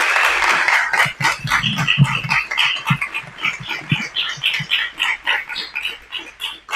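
A political debate audience for a 2024 Democratic primary applauds the candidates with a busy patter of claps mixed with whoops and cheers. The applause is fairly loud and sustained, with no talking over it.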